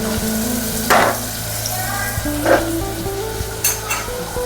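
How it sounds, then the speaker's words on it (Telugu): Onions sizzling and frying in a pan for mutton leg curry, with a steady frying hiss broken by a few louder stirring scrapes; no one speaks. "ముందుగా ఉల్లిగడ్డ వేసుకోవాలి ఫ్రెండ్స్."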